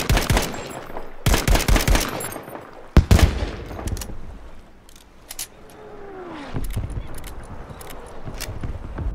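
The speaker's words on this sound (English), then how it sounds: "the Turner SMLE was essentially a conversion by a man called Russell Turner to turn it into a semi-automatic conversion" A Turner SMLE semi-automatic rifle fires in a video game, with rapid clusters of loud, sharp shots and separate single reports spaced apart. Fainter mechanical clatter and handling noise fill the quieter gaps.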